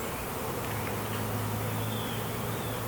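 Honey bees hum at a beehive in a dense, continuous buzz close by, with individual bees droning louder as they pass near.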